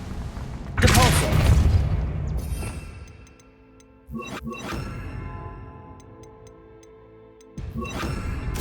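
A Depulso spell is cast in Hogwarts Legacy, giving a sharp, loud magical blast that rings out and fades, followed by softer clicks and a second blast near the end.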